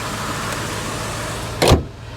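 A running Ford Taurus SHO with a 3.4 liter V8 and an aftermarket exhaust idles with a steady, throaty rumble. A short, louder burst of noise rises near the end before the idle settles back.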